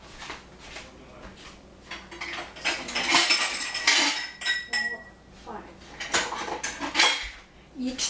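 Small yogurt pots and dishes are set out in a kitchen, with repeated clinks, clatters and scrapes of ceramic and cutlery, irregular and close, some louder knocks in between.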